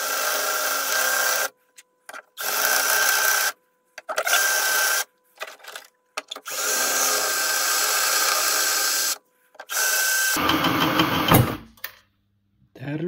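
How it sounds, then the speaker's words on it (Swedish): A 5 mm drill bit bores into the door of a Volvo 940 in short bursts. Several loud, whining runs are separated by silences, followed by a harsher grinding burst at the end. "Jag kör ett 5 mm borra nu."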